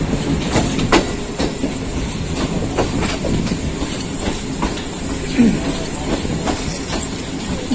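A Pakistan Railways rail car runs along a loop line, steady rolling rumble punctuated by regular clickety-clack wheel beats over rail joints, heard from inside the train with faint background voices.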